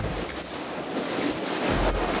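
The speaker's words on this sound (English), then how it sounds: "On a boat in the Italian Sea." A boat travelling on the Italian sea along the Cinque Terre coast, with waves washing and wind buffeting the microphone; a steady, fairly loud rushing wash with brief gusts throughout.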